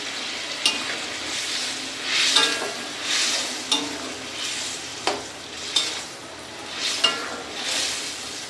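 Chopped green chillies are stirred into a katla fish curry frying in a pan, with a steady sizzle under rhythmic scraping stirs roughly every second, close up and with no talking.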